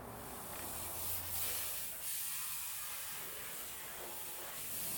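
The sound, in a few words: rinsing dirt off a car's undercarriage with water spray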